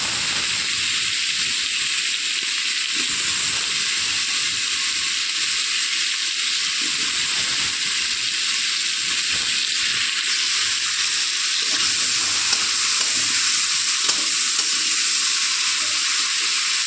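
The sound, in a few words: potatoes and tomato frying and stirred with prawns in oil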